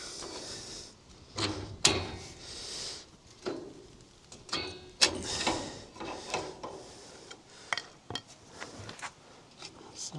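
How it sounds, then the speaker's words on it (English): A pry bar levers a brake shoe off an Ifor Williams CT177 trailer hub, giving a series of close metallic clanks, scrapes and sharp knocks at irregular intervals, with no talking. "Usually get a pry bar and lever off the top here."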